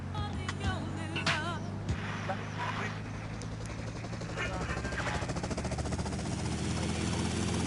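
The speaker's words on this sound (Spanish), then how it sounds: "Y aquí tenemos helicóptero." Helicopter in GTA Vice City, a continuous rotor and engine whir with rapid chopping texture and some sharper bursts, moderately loud, with speech-like sounds mixed in.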